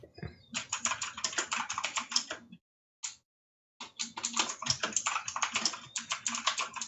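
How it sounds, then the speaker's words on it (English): Computer keyboard keys typed in quick, clattering bursts, with a close, steady run of clicks, a brief pause with a single tap, then another fast flurry of typing. "When you depress the key, it makes the noise so that you know it's been depressed"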